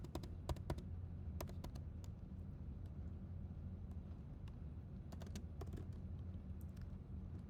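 Steady clicking of keys on a computer keyboard, in irregular bursts, heard close up over a low background hum.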